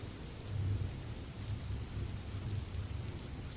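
Steady rain falls on a rainy day, a constant close hiss of drops with a low rumbling undertone, unbroken and without voices.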